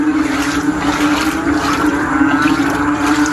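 Loud, steady rush of fast-flowing rainwater after heavy rain, a continuous churning roar close by with no pauses.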